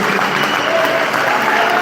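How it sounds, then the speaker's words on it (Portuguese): A church congregation claps steadily and fairly loudly indoors during a communion service, a dense, even patter of applause throughout. "Você pode dar uma salva de palmas a Jesus por isso?"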